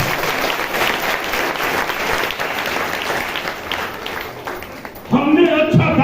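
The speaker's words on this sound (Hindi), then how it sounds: "ताली बजा के प्रभु का धन्यवाद।" A church congregation claps in praise, a dense sustained burst of applause for about five seconds, before a voice starts speaking over the fading clapping.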